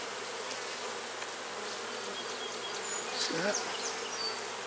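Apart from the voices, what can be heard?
honey bees buzzing around an open hive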